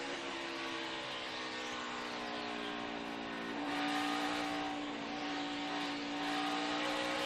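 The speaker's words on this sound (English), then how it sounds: "You hear Harvick making 3 stabs at the throttle in each corner now?" Kevin Harvick's NASCAR Cup race car drones through long corners at the 2018 AAA 400 Drive for Autism, a loud, sustained engine note that swells in throttle surges partway through.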